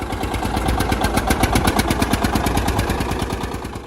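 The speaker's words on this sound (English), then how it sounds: "The John Deere 70 Diesel." A John Deere 70 diesel tractor engine runs steadily with a rapid, even knocking pulse. It is loud and close, with no talk over it.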